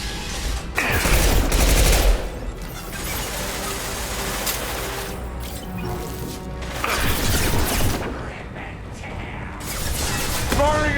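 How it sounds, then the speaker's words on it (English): Weapon fire from a concussive shot in the Mass Effect 2 video game, dense blasts and crashes of combat noise filling the stretch, with a stronger burst near the start and again later, voices mixed in. "Firing concussive shot!"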